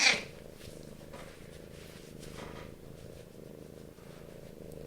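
A cat purrs close and steady, a low continuous rumble holding throughout the clip with no talk over it.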